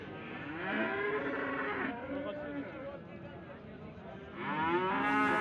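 Cattle low repeatedly at a busy livestock market in Taraz, with a first-calf cow and heifer calf among the animals on sale; two drawn-out moos dominate, framed by steady background chatter and crowd noise.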